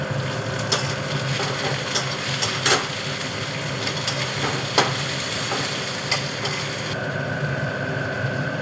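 Tomatoes added to lightly fried onions sizzle in a pan for a fish malaikari, a continuous close frying hiss with occasional soft stirring knocks against the pan.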